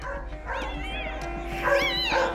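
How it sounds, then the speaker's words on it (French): Newborn puppies delivered by caesarean cry in thin, wavering squeals and whimpers, several overlapping close by, with a low steady hum beneath and a voice murmuring in the background. "Les cris des chiots me réchauffent le cœur."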